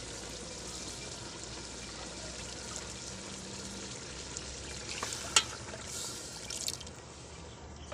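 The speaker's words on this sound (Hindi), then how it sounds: "अब हम इसके अंदर शोरबे का पानी डालेंगे।" Water poured into a pan of simmering potato and pea curry to make broth, a soft continuous hiss and sizzle with a few brief splashes and a clink near the end, fairly quiet and close.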